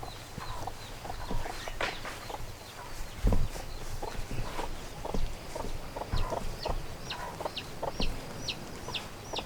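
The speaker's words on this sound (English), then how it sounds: "So there I've got the black hen with her 5 babies and the white hen with her 4." A backyard hen clucks softly among her small chicks, whose thin high peeps repeat in a rapid series near the end, with light rustling and thumps around them.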